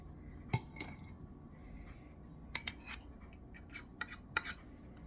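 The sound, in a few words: mixing cream cheese in a bowl with a fork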